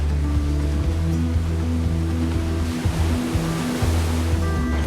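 Ocean waves break steadily along the Dominican Republic coast, a continuous loud wash of surf with a deep rolling rumble underneath, swelling and easing without any voices.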